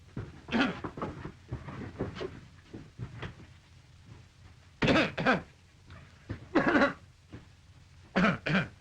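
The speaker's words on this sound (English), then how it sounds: "a nasty cough, hasn't he?" Several harsh coughs and throat-clearing bursts come in short clusters, close and fairly loud, over a quiet background.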